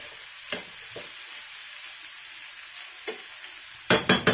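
Moong sprouts stir-fry in a pan with onion, ginger, garlic and green chilies, a steady faint sizzle broken by a few scraping stirs and a quick burst of three sharp utensil knocks at the end.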